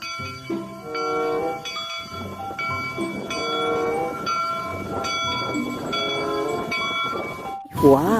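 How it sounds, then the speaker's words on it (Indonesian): A toy train locomotive plays a looping electronic melody with bell-like tones and a rhythmic chugging pattern, close and steady, ending in a rising horn-like sweep. "Widih, widih, ada lokomotif kereta api."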